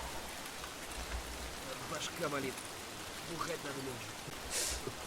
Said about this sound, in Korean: 추적 추적 비도 오고 이거 분위기 좋네